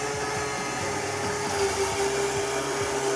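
A small geared windmill model runs with a steady whirring motor hum and faint rhythmic gear ticking, close and continuous.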